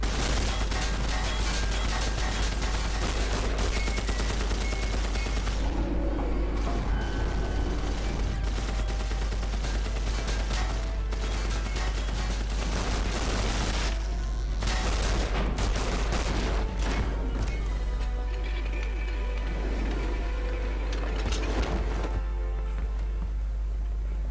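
Rapid gunfire volleys from the shooter game Wolfenstein, dense and loud throughout with bursts of automatic fire, heavy impacts and background game clamor, no voices.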